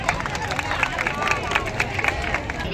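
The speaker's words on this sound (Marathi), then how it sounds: "म्हणून त्यांचं जोरदार एकदा टाळ्या वाजवून स्वागत करायचं" Crowd at a unity run event clapping to welcome a runner, a steady patter of many hands over murmuring chatter, fairly close and continuous.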